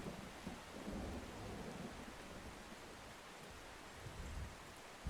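Steady rain hisses through a thunderstorm in the storm-chasing game Outbrk, with low rolling thunder rumbling underneath throughout and a sharper crack right at the end.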